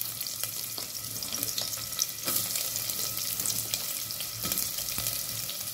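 Onions frying in about three tablespoons of hot oil, a dense, even hiss and crackle held steady throughout, close up with no voices.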